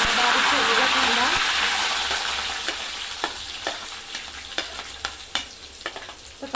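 Curry leaves and finely chopped onion sizzle in hot oil in a kadhai, a loud steady hiss that fades slightly, punctuated by sharp scraping clicks of a spoon stirring in the later seconds.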